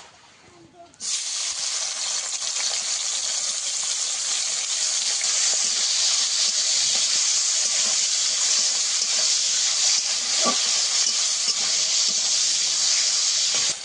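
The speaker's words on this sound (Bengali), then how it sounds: "আগে থেকে লবণ হলুদ মাখানো চিংড়ি মাছ দিয়ে দেবো কড়ার মধ্যে।" Prawns coated in salt and turmeric drop into hot oil in a wok, bursting into a loud, sustained sizzling hiss after a quiet second, with a brief clatter near the end.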